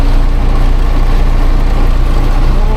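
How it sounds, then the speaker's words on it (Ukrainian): A tractor engine runs at about 1900 rpm while harrowing a field for corn, holding a loud, steady low drone with no change in pitch and no voices. "наче вгадали трактору пошти 1900 обертів"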